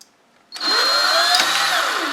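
A power drill countersinks a center point for a small handmade rivet hole, starting abruptly after a quiet moment and then whining steadily and loudly with a slowly shifting pitch.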